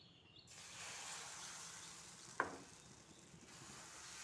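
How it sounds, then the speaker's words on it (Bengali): Wheat flour batter meets a hot pan with a soft, steady sizzle, faint and even, with one brief sharper crackle partway through and no talking. "প্যানটা গরম হয়ে গেছে। এবার আমি আটার এই লিকুইডটা দিয়ে দেবো।"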